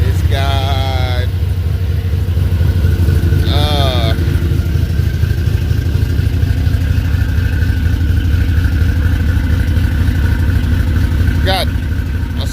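Junkyard 4.8 V8 turbo truck engine with a TH400 swap, 2800 stall, flex fuel injectors and small muffler, running at a loud, steady idle-like drone throughout, with brief high whistling chirps near the start and end.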